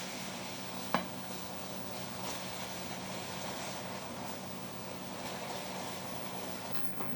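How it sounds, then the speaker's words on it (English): Cold cream added a little at a time to hot melted sugar caramel gives a steady bubbling sizzle with a sharp crackle near the start, close by and moderately loud, with no talking. "I'm going to start to add a tiny bit of cream at a time."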